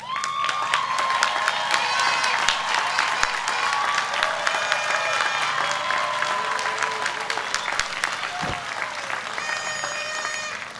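A commencement audience applauds the college's faculty and staff with sustained, loud clapping, mixed with cheers, whoops and excited shouts from the crowd throughout.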